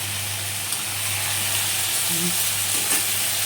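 Mung dal fries with potatoes in oil in a pan, giving a continuous close sizzle with a low hum underneath and brief stirring scrapes partway through, with no one talking.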